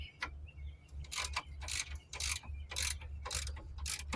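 A ratchet wrench loosening bolts on a 2009 Hyundai Santa Fe, a rapid series of crisp metallic clicks in about eight evenly spaced bursts, close up and alone.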